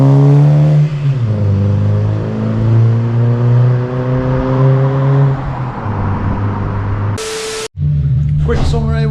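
A Porsche 924 engine fitted with a Subaru exhaust revs loudly and steadily up close, its deep harmonic drone rising and falling for several seconds, then cuts briefly before picking up again.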